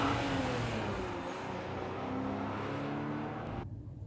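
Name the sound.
motorcycles revving past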